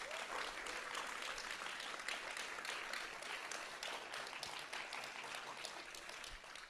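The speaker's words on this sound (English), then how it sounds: "how about a round of applause for our donors as well?" Continuous applause from a seated audience for donors at the Markham Symposium, a quiet but dense wash of many hands clapping that holds steady and tapers slightly at the end.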